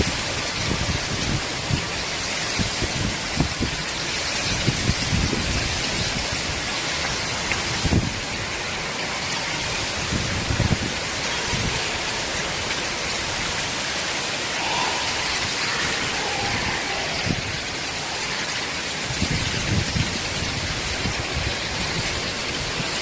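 Unexpected heavy rain falls over Chennai in a thick, continuous roar, with irregular patters and splashes close by and no voices.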